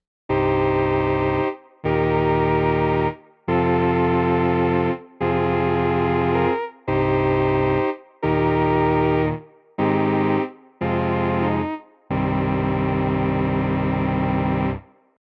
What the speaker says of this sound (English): This really starts to give us that Novachord sound. Let's try vibrato 2.